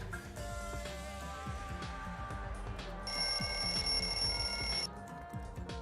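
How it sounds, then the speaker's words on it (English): A wall clock alarm in the lounge in the video game Danganronpa 2 rings with a rapid, continuous electronic bell trill. Halfway through, a brighter, louder tone layers on top for a couple of seconds, then drops away, with no talking. "The lounge's wall clock alarm started ringing at 5:30."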